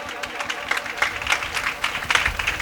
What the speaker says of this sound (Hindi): एक बार फिर रूह उसके लिए जोरदार तालियां बजाइएगा।